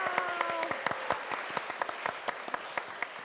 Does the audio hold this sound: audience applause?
yes